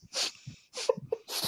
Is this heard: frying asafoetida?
no